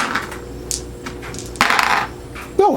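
Dice rattle and clatter onto a table during a tabletop wargame, two or three short hard tumbling bursts close by in a quiet room.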